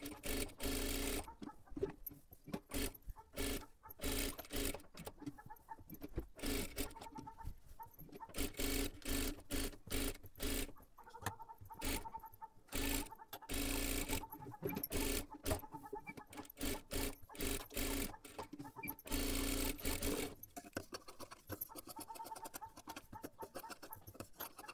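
A sewing machine stitches a size-30 katori blouse in rapid on-off bursts, with loud clattering runs separated by short pauses throughout.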